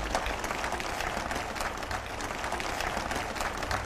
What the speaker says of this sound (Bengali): মায়েদের জন্য করতালি শুনতে